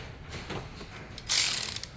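A ratchet tightens a 13mm nut holding the live wire on the starter motor of a 2013 Vauxhall Zafira during alternator replacement, giving a quick burst of loud, close clicking after a short quieter lead-in.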